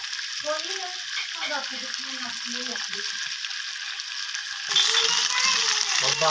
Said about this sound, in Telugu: చూసారు కదండి ఎంత సౌండ్ వస్తుందో చిటక చిటకలాడుతుంది